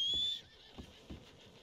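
A horse in the video game Red Dead Redemption 2 whinnies briefly when called, followed by a few soft, spaced hoof thuds.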